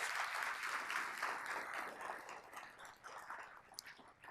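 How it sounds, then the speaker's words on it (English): An audience at a regional chamber business event claps for the sponsors, sustained dense applause loudest at the start and gradually thinning over about four seconds. "Please, a round of applause for all our generous sponsors."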